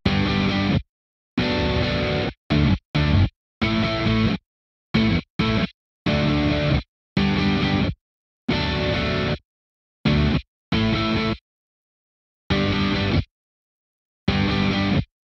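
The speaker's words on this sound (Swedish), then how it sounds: "i den här refrängen då så har vi de här gitarrerna som låter så här." Tight pop rhythm guitars from a song chorus play short, punchy distorted chord bursts separated by abrupt silences, loud and close, with no voices.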